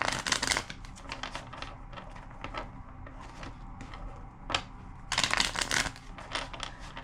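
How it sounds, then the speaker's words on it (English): A deck of cards is shuffled close up in quiet bursts of riffling flutter and soft snaps, with brief pauses between shuffles. "Two more shuffles."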